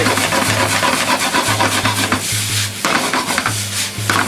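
A large batch of yakisoba fries loudly on a hot griddle while being stirred, with continuous sizzling broken by repeated metallic scraping and clanking of utensils in a steady rhythm, no voices.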